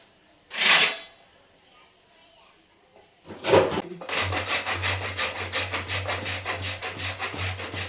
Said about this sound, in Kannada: ಬೆಲ್ಲನ ಜಜ್ಜಲ್ಲ, ಎರ್ಜಿಬಿಡ್ತೀನಿ